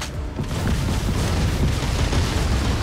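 Rockets slamming into the player in the shooter game Ion Fury, a loud, dense rumble of blasts running continuously with a heavy low-end roar.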